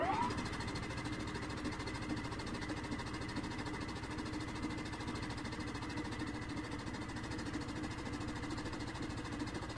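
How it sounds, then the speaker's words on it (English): A generator engine runs in a Russian horror video game, giving a steady, unbroken mechanical drone with a low rumble that holds at an even level throughout. "Turn on generator."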